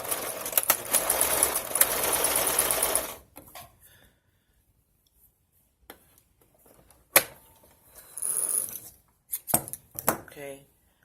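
A sewing machine whirs in a rapid burst while stitching a too-tight top being resized, then stops; short clicks and another brief run of stitching follow amid handling noises.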